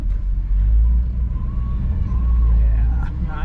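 A 1959 Chevrolet Bel Air's 348 engine with a Rochester 4-Jet carburetor, fresh from an accelerator pump repair, runs warm with a steady deep low rumble throughout, close and loud, while someone talks faintly over it.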